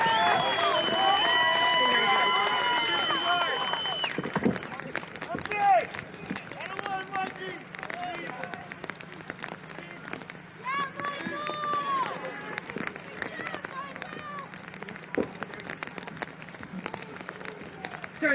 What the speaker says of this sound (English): Please let's hear a round of applause for Mike.